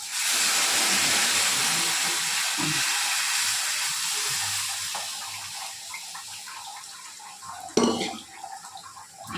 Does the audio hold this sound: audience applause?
no